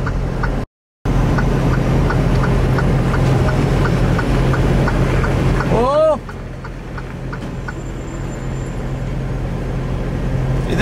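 A car drives past close by on a Canadian road in steady traffic noise, its engine whine swooping in pitch as it passes, then the roar eases off.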